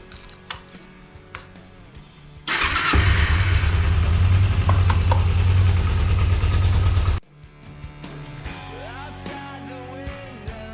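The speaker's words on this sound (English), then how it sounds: "I'm gonna crank it up, go through the gears, take it around the block" A Ninja motorcycle engine fires up after a clutch replacement and runs loud and close for about five seconds before cutting off, with quieter clicks and mechanical handling noises around it.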